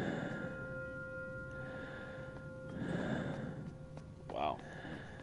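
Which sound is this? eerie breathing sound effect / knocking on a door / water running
eerie breathing sound effect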